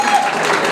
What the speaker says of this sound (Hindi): तो जोरदार तालियों से स्वागत करें